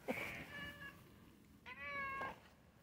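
A stray cat meows twice on a bitterly cold day, two close, fairly quiet calls about a second apart, the second longer and rising.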